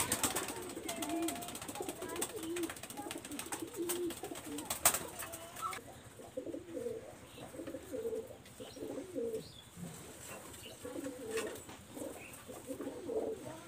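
Pigeons, including a moulting female, coo in repeated low, throaty phrases close by, with steady soft chirps and rustling filling the background.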